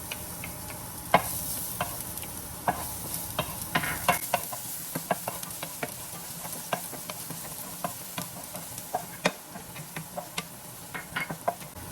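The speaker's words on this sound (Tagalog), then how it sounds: "niluluto ko muna yung chicken breast separately doon sa iba kong mga ingredients" Chicken breast cooking alone in a pan, with a steady soft sizzle and frying crackle and frequent small clicks and taps of stirring throughout, fairly quiet and close, with no voices.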